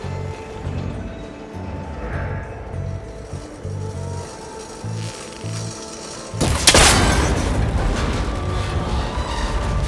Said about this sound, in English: The connector's holding the cables together. It should break if I shoot it.